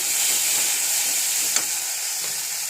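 Spices frying in a home kitchen pan until reddened, an even hissing sizzle close up with a couple of faint stirring scrapes.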